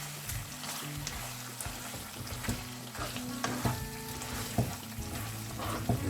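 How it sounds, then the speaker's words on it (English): Black pepper chicken with coriander gets stirred in a frying pan, a quiet, steady sizzle punctuated by repeated clinks and scrapes of the utensil against the pan. "Mix it now."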